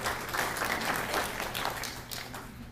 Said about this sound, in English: You can save the applause to the end